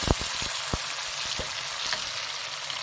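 Finely chopped green chilies and tomatoes fry in a pan with a steady sizzle, broken by sharp knocks of a spoon stirring against the metal several times.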